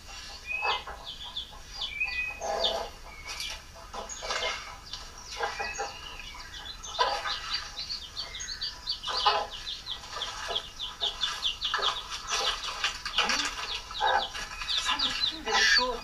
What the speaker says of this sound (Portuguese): Ah, dessa galinha, tadinho.